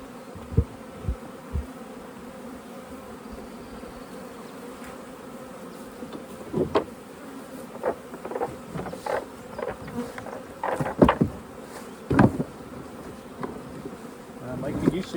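A honeybee colony hums steadily around its hive in a busy, close buzz, individual bees zipping past the microphone in louder swells, with occasional bumps and handling knocks.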